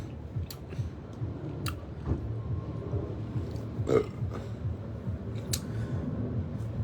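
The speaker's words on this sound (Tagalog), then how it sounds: "Nakita mo yung dighay ko ay narinig nyo." A person burps once, a loud, close, croaky belch midway, amid light chewing and clicking sounds at a meal with soft drinks.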